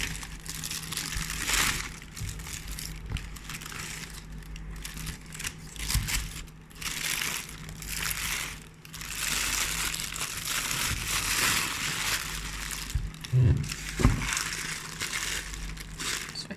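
Paper crinkles and crumples continuously as Air Jordan 1 Zoom Air Comfort Purple sneakers are unboxed, a close, busy rustling with a few sharper crunches and no talking.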